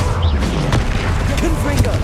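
A Confringo fire spell explodes in Hogwarts Legacy: a deep booming blast with a broad rumble, heard amid dense game noise, with voices talking over it.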